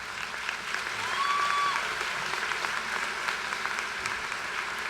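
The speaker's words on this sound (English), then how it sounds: "so let's give her another round of applause" A graduation audience applauds steadily as a dense, even wash of clapping that holds at moderate level throughout, with a brief tonal whistle near the start.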